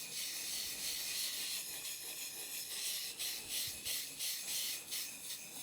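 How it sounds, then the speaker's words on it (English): A hand plane blade rubbed in circular strokes across a sharpening stone, a close, steady gritty rasp pulsing in regular rhythm, with no talk. "Moving up and down the stone in that circular motion."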